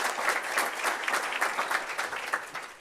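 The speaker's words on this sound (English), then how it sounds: "So let's give the 67th session a round of applause." At a student government inauguration, the audience gives a round of applause to the outgoing session: lively clapping from many people with distinct individual claps, steady and moderately loud from start to finish.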